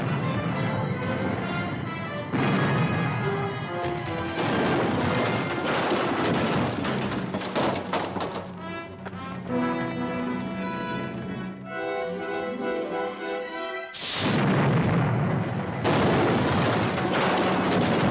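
Cannon fire in a 1950 pirate film, heavy booms and rolling blasts layered under a dense orchestral score and battle din, loud and sustained with a brief drop before the noise surges again.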